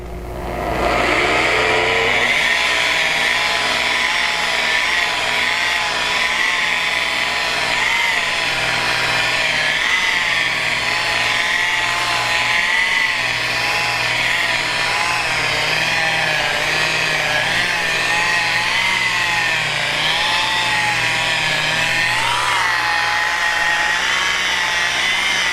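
Steady motor drone of a car polisher buffing a panel at medium speed to remove orange peel from the paint, running continuously and loud for the whole stretch after a brief start.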